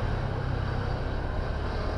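Road traffic din, a continuous low rumble of passing engines and tyre noise, steady and fairly loud with no talk.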